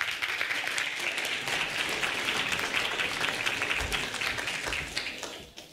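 Audience at a youth music prize concert in Helsinki gives sustained applause, a dense steady clapping from many hands that fades slightly at the end.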